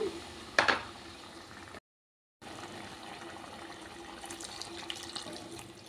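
Tamarind pulp juice poured from a vessel into a cooking pot of village-style brinjal and dried fish stew, a close, steady liquid pour with a brief splash near the start and a short break midway.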